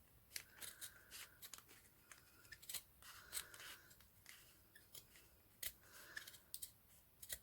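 Scissors snip along the edge of a 3-inch ribbon, using it as a guide while making a wavy curved hair bow: a quick series of crisp, close cutting clicks in irregular bursts, with no talking.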